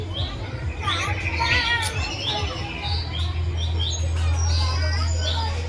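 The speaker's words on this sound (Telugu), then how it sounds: "పక్షుల యొక్క ధ్వనులు, కిలకిల రాగాలు వినసొంపుగా ఉన్నాయి" Several birds chirp and sing in bright, repeated tweets over a low steady rumble and faint background voices at an exhibition bird display.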